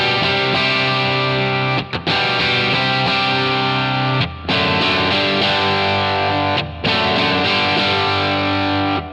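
Electric guitar played through a Line 6 Helix with stacked Euphoria-style overdrive and EP booster, giving a thick, sustained distorted tone with chorus-like shimmer; continuous chords ring out with a few brief pauses between phrases.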